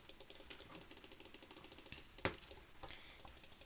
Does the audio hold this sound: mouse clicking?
yes